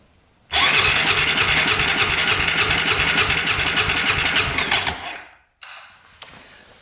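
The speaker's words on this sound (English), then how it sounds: "See if the starter works now that we have compression." A Honda ATV's electric starter cranks the engine in one loud, close, rhythmic burst lasting about four seconds, slowing and stopping, followed by a couple of faint clicks.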